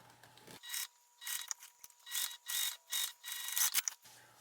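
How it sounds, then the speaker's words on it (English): A sewing machine stitches a seam across a fabric top piece, running in six or seven short bursts of mechanical whirring separated by brief pauses, close and fairly loud with no talking. "I'm sewing with the full seam allowance on this top piece all the way across"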